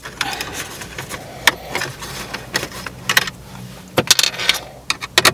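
Phillips screws being removed from Mazda 3 console trim, with scattered close clicks, scrapes and light metallic rattles of a driver and loose screws in irregular bursts, no talk.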